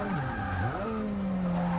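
Tires skidding as a car slides around a corner in Forza Motorsport 6, a sustained wavering squeal over a revving engine, loud and close, with no talking.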